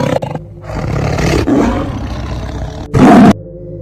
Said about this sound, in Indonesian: Dia sontak seperti geraman harimau.